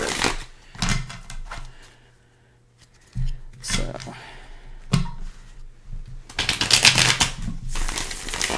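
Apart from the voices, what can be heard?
shuffling tarot cards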